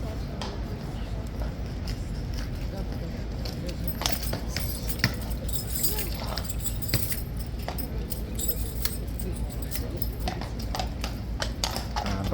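A horse's hooves clip-clopping near a horsebox: irregular, moderately close hoof knocks with occasional jingling, under a steady background hum and some voices.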